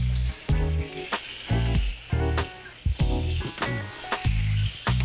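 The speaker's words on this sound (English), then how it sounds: "I want to press that on the griddle pan just to make sure it gets some nice char marks." Butternut squash sizzles on a griddle pan in loud bursts as pieces are pressed down, with a steady frying hiss between sharp pops and stirring sounds.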